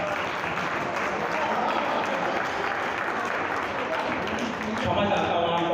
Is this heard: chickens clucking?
no